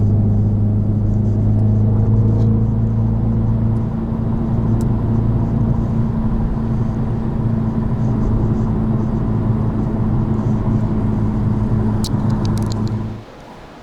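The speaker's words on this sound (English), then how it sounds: "So here we have the new M Performance model of the X2 35i, now a 4-cylinder." Four-cylinder engine of a BMW X2 M35i runs with a loud, steady hum and strong sustained tones, easing slightly after a few seconds before cutting off abruptly near the end.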